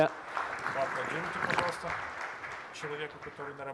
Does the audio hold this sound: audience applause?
yes